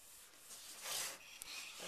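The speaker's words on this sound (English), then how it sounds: "with finishing wax, and then I'm going to apply it right to the surface." Finishing wax is rubbed by hand into a cured lacquer finish on wood, a soft continuous rubbing swish that swells and fades, close and quiet, with no talking.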